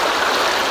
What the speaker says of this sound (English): Teklanika River, and there's some amazing rocks. The sound here is just magnificent.